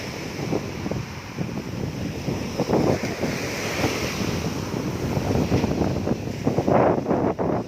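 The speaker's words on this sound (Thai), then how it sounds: "ดูบรรยากาศทะเลไปด้วยนะครับ" Steady surf rolling onto a beach on the Gulf of Thailand at Pattani, a continuous wash of breaking waves with gusty wind buffeting the microphone throughout.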